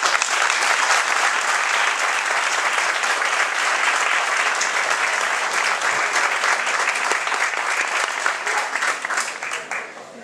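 A large crowd at the 2015 San Roque fiestas in Telde keeps up dense, even applause for the full stretch, loud and close, tapering slightly at the very end.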